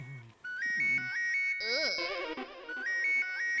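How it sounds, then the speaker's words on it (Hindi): A phone ringtone plays a repeating electronic melody, fairly close and clear, with a brief burst of brighter tones in the middle. "फोन की घंटी बजी"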